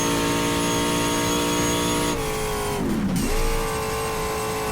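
Race car engine in the GTR2 racing game dropping to fourth gear on the Mount Panorama circuit in a 1987 WTCC touring car, a loud steady drone that dips sharply as the revs fall, then climbs again.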